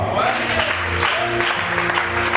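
A church congregation applauds and acclaims God in a short, dense burst of clapping and cheering, with music sustained underneath.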